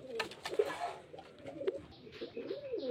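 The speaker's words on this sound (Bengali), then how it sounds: "এই যে দেখুন পায়রা কোয়ালিটি দেখুন, নরমাদা, সাদা চোখের" Domestic pigeons of good quality, white-eyed males and females, coo softly in a few repeated low, throaty phrases close by, with faint chirps mixed in and no talking.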